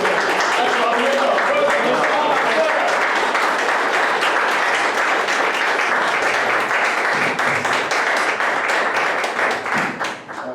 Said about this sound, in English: warm, rousing round of applause